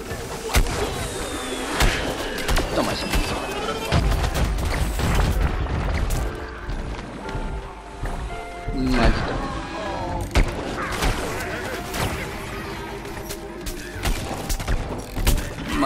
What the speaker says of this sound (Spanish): Señor Espinas, disparo de pinchos.